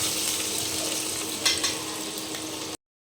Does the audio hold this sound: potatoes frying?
yes